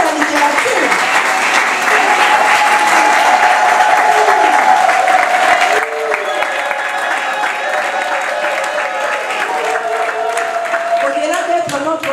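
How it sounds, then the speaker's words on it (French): Audience applause at a book launch, sustained and dense clapping from a large crowd for about twelve seconds, loud and steady with some murmured voices underneath, dropping slightly in intensity halfway through. "Il faudrait quand même qu'on applaudisse Papa Amos"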